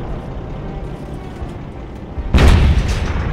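Artillery fire in the Company of Heroes game during the Liberation of Caen battle, a single heavy boom bursting in after a low rumbling lull, loud and close, with the blast ringing on afterward.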